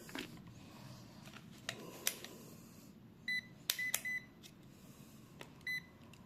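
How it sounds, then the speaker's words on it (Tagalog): Several short electronic beeps from a multimeter's continuity buzzer sound amid faint clicks and handling noise, some beeps quick and clipped, one held slightly longer, close and clear. "Yan, buzzer mode."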